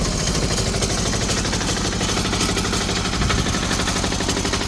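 A small Chinese diesel engine runs steadily after a pull start, its loud, rapid knocking pulse continuous and close throughout with a brief dip partway through.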